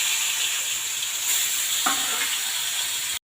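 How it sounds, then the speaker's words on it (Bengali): Fish frying in hot oil in a Bengali kitchen: a loud, continuous hissing sizzle close up, steady throughout with one small clack partway, then abrupt silence. "এরপর আমি তেল গরম হয়ে গেছে, মাছ দিয়ে দিলাম"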